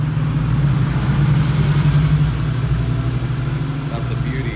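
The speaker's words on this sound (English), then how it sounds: "Still got more cars rolling in, another Porsche now" Porsche rolling into an underground car meet in Japan, its engine running with a loud, steady low hum and rumble close by, gradually easing off, with people talking over it.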